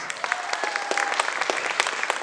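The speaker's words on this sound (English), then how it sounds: "All right, everyone give Brenda a round of applause." A crowd claps steadily in close, lively applause for a woman brought on stage, with a voice briefly audible through the clapping.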